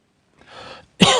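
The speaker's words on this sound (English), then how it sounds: "You've got a nasty cough." A short breathy throat-clear followed by a single sharp, loud cough, close up, with no talking.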